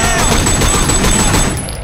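Sleeping Dogs video game gunfight: dense, loud bursts of rapid gunfire pile up into a continuous fusillade that eases slightly at the end.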